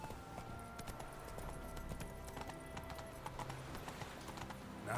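Horse hooves clip-clop steadily at a gallop in The Witcher 3, a continuous rhythmic pounding under game music, with a brief whinny near the end.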